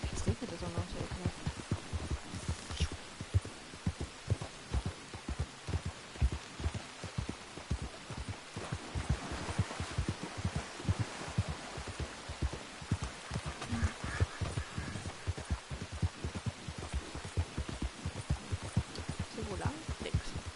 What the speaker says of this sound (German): Jetzt regnet es auch noch so ekelhaft.